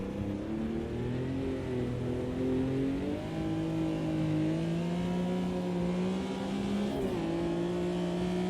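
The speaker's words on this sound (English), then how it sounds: "And Jay Barrett extending the legs with the Corvette down this straight" A Corvette race car in a GT Classics historic race howls along the straight, heard onboard as a loud, steady engine drone with brief pitch dips near the third and seventh seconds as gears change.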